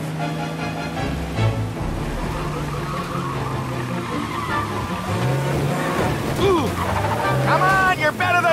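Car in a chase in the video game Mafia Definitive Edition, engine revving steadily then tires skidding and squealing near the end, loud and close, with a voice talking over the driving.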